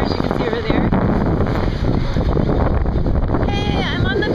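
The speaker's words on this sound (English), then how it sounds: "I'm on the pier now, and it's really windy" Strong wind sweeps across an ocean pier, a loud, continuous, gusting roar that buffets the microphone from start to finish.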